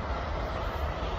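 Train passing close by a smallholding, a steady loud rumbling roar with broadband rushing noise that holds even for the whole short stretch, with no voices.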